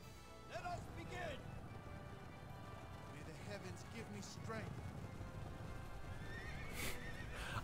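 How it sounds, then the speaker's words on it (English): A horse in the strategy video game Dynasty Tactics 2 whinnies sharply, then its hooves clip-clop at a steady galloping pace, heard close and clear over a busy game soundscape. "Ah, the horse just pops in from nowhere."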